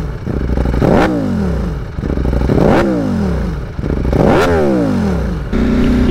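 A Ducati V4S fitted with an aftermarket Akrapovic exhaust is revved hard three times in succession, each blip climbing to a sharp scream before dropping back to a loud, burbling idle, very close.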